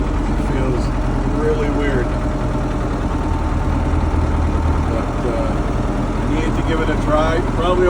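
A heavy tractor engine drones steadily up close throughout, a low continuous rumble with faint rattles and occasional distant sounds on top.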